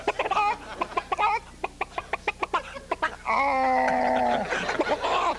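A comedian imitates a chicken with his voice, producing a run of short, rhythmic clucks followed by a long, drawn-out squawking cackle, loud and close with no other talk.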